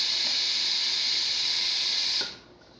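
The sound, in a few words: steam wand of a Breville XL espresso machine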